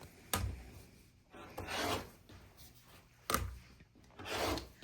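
Trimming a quilted fabric four-patch coaster down to size, heard as a few separate rubbing, rasping strokes with quiet pauses between them, close and soft, no voices.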